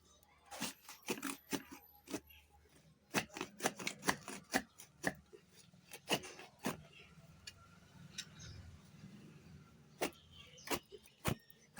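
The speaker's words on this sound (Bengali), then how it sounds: "এখন আমি কাঁঠালটা কেটে নিই" A large jackfruit being cut with a knife, a string of sharp, close chops and cracks that come in irregular bursts with short pauses between them.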